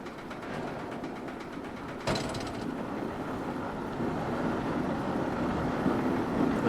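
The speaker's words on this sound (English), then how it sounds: "Those Vekoma lift hills are super loud." Loud, continuous mechanical rumble and clatter of an Aerodynamics mine train coaster's lift hill in Planet Coaster, at a Silver Dollar City Powder Keg recreation, stepping up abruptly in intensity partway through and holding steady, with no talking.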